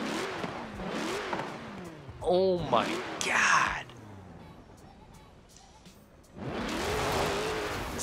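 A Jeep Trackhawk in Forza Horizon 4 revs its engine in loud bursts, with rising and falling pitch and a brief tire-squeal-like whine, while someone talks over it.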